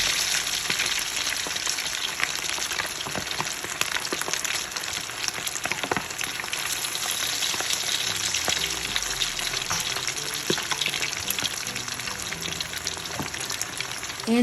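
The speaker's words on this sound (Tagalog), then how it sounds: "while deep frying our chicken wings" Chicken wings deep frying in hot oil give a loud, dense, steady crackle and bubbling that runs without a break from start to finish. Nobody speaks.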